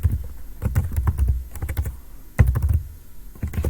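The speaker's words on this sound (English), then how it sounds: "So to search for that, I'm going to type in income" Keys clack on a computer keyboard as a search phrase is typed into a library database, quick close bursts of taps with brief pauses between words.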